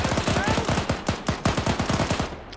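An AT weapon fires in a video game as rapid, loud bursts of repeated shots in a fast, steady rhythm that stops briefly and then resumes.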